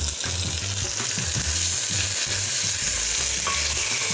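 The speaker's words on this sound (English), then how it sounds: "Ginger and garlic paste going on top of the onions." Onions with ginger garlic paste sizzle loudly in a pan while a spoon stirs and scrapes in a repeating rhythm, close and steady.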